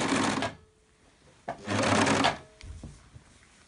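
A sewing machine stitching ribbing onto the neck of a bee costume, with two close bursts of fast, even needle whirring separated by a short pause, followed by a few light clicks.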